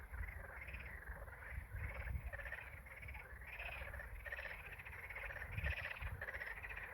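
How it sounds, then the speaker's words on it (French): Frogs in mating season call in a dense, rhythmic chorus of pulsing croaks, steady and continuous at moderate distance with no talking. "les grenouilles, comme vous pouvez l'entendre, elles chantent, elles s'en donnent à cœur joie."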